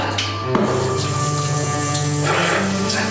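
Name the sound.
shower water running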